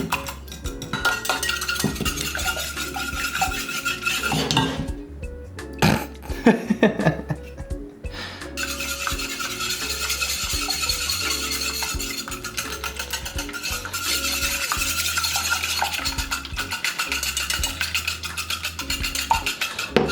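Blue-shelled eggs whisked in a bowl for French-style scrambled eggs: rapid rhythmic clicking and tapping of the whisk against the bowl, close up, with a brief pause partway through before the beating resumes.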